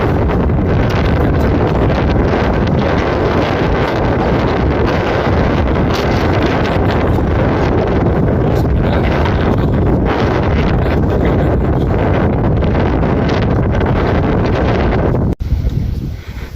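Strong wind roars across an open stretch of the Mount Merbabu hiking trail between posts 2 and 3, buffeting the microphone in loud, continuous gusts with rumbling low-end turbulence, ending abruptly.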